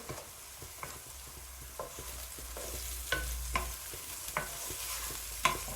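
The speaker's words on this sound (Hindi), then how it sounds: "इसे भी अच्छी तरह भून लेंगे।" Spices roast in a pan while mash dal is being made: a low, steady sizzle broken by regular scraping strokes of a stirring spoon, with no talking.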